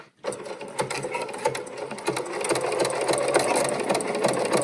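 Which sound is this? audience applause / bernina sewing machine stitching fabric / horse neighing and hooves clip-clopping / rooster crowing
bernina sewing machine stitching fabric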